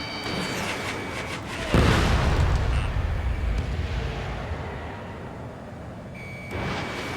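A heavy missile explosion bursts in a jet combat game, Ace Combat 7, as an enemy UAV is destroyed: a loud broadband boom that swells and slowly decays over a steady engine drone, followed by a second, smaller burst near the end.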